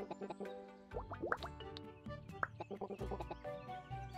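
Cartoonish chickens cluck in the farming video game Littlewood on Nintendo Switch, a quick series of short chirpy clucks and squawks with small plopping sounds, quiet and free of talk.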